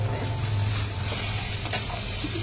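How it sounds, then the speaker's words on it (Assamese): Capsicum and green chilli fry in oil for chowmein, a steady close sizzle with stirring and scraping that continues throughout, with no talking. "হেৰি ধুনীয়াকৈ ভাজি আছে, এতিয়া অলপমান নিমখ চিটা দিছোঁ"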